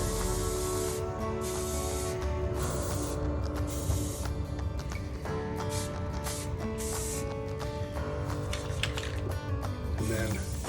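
A spray paint can hisses in a short continuous burst as its nozzle is cleared, the broadband spray loud and close with faint mechanical clicks mixed in.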